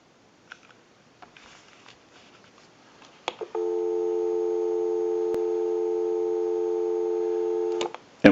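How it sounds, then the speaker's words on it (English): Steady dial tone from a Western Electric 302 rotary phone, switched on after a few faint clicks and handling sounds, then holding as a constant loud hum for about four seconds before cutting off. "Go ahead and give you some dial tone."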